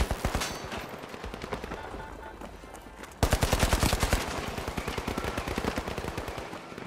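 Rapid automatic turret fire in the video game The Finals, fast evenly spaced shots that fade, pause briefly, then burst back in louder and keep rattling steadily to the end.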